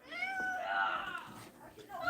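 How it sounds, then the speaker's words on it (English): A cartoon cat gives a drawn-out, wavering meow, close and clear, with a second short mew rising at the end over faint background sound. "Weird ass finicky cat."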